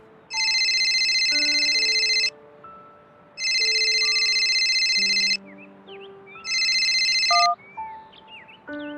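Phone ringtone for an incoming call from Renz, playing three loud bursts of electronic ringing separated by short gaps, with bird chirps and faint background tones beneath.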